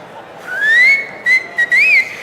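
A loud, shrill whistle rises and holds, then breaks into several short bursts, with a final warbling rise; no talking.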